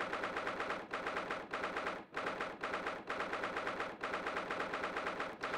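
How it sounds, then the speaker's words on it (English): Fireworks going off inside the Old Bailey courtroom in the Great Ace Attorney 2 video game, a dense, loud, continuous crackle of rapid bursts with a few brief dips, no talking. "Interesting that they had permission to shoot off fireworks in the Old Bailey"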